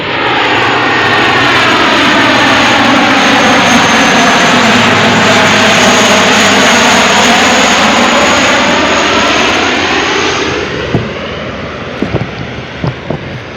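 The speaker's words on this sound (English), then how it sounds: "I'll just show you this plane going overboard." A large low-flying plane roars loudly overhead near an RAF training ground, its broad jet engine noise swelling, holding steady, then fading away, with a few faint knocks near the end.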